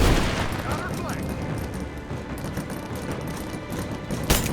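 Gunfire in the video game Rise of the Tomb Raider, a dense, continuous burst of shots and rumbling blasts with a sharp bang near the end, while a player speaks over it.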